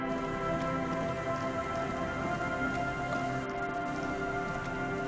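Rain falls steadily in the video game Disco Elysium, a soft, even hiss of drops on surfaces continuing without pause at low volume.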